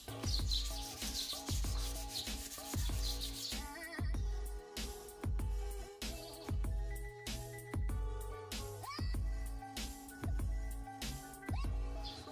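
Rhythmic hand sanding by hand on a painted Honda Supra GTR150 motorcycle fairing, repeated scratchy rubbing strokes about once a second, close and steady with no talk.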